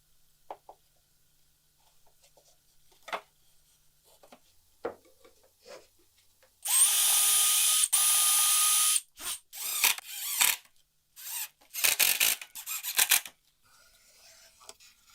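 A cordless power drill drives screws into a cedar wood shelf: quiet tapping and handling, then a long steady whir lasting about two seconds followed by several shorter bursts of driving, close and loud.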